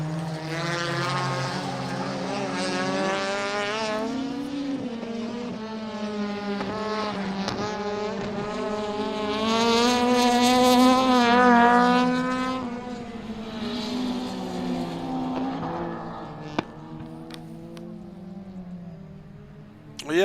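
Rallycross cars, a Honda among them, drive the track with loud revving engines that climb and fall in pitch as they accelerate and pass. The roar builds to a peak midway, then fades as the cars pull away.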